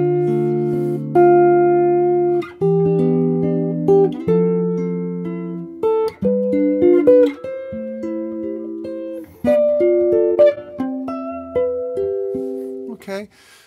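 Solo jazz guitar with notes and chords plucked in a loud, soft, soft, loud dynamic pattern, clean and close, with each attack decaying before the next phrase and no talking over it.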